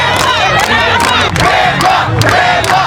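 A big crowd at an obstacle course competition roars and chants in loud, rhythmic surges, voices rising and falling together throughout the short stretch.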